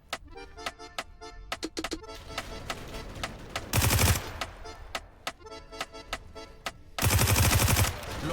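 Gunfire from the Roblox video game: rapid clicking shots in bursts, plus two louder, denser sustained bursts, with a continuous game background underneath.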